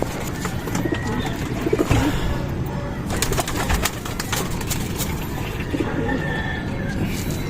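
Young racing pigeons coo in a loft, a steady murmur of soft calls with occasional wing flaps and rustling throughout, close and moderately loud, with a faint engine hum in the background.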